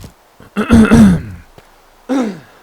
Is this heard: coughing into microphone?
yes